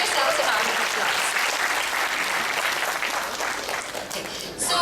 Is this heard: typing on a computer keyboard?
no